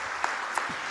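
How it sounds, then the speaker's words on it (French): Audience applause at an awards presentation for a digital project, a short stretch of dense clapping with a few sharper claps standing out. "Vous applaudissez ce projet, s'il vous plaît."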